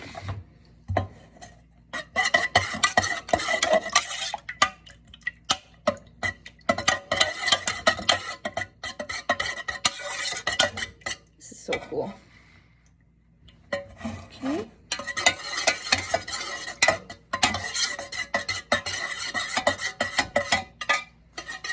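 Mica powder being stirred into melted candle wax, heard as bursts of scraping and clinking strokes with short pauses between them, fairly close and with no talking.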